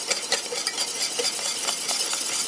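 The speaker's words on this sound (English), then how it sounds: "you want to whisk that well because you don't want to scramble those eggs" A beaten egg is whisked into a warm melted margarine mixture for gingerbread cookie dough, giving a fast, steady rhythm of whisk wires ticking and scraping against a bowl, close and unbroken.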